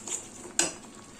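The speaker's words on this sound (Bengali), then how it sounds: "কাঁচামরিচ দিয়ে নাড়াচাড়া করব।" A few scraping knocks of a utensil in a pot of pangas fish curry as green chilies are stirred in, with one sharper clink standing out partway through, fairly quiet and with no talking.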